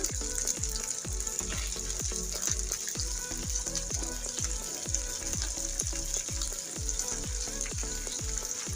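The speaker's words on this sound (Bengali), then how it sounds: "তারপর রসুন কুচিগুলো দিয়ে দিচ্ছি।" Chopped garlic fries with minced beef in a hot pan, a dense continuous sizzle close up, with a rhythmic scraping stir repeating about every half second throughout.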